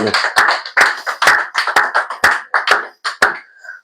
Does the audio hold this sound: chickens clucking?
no